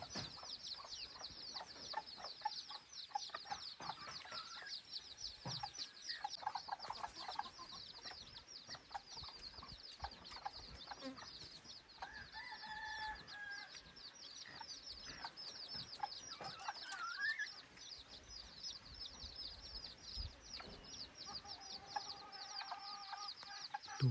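Chickens cluck and chatter steadily at a farm, with a young rooster starting to crow among them; a dense, continuous chorus of calls at moderate distance with faint rustling beneath.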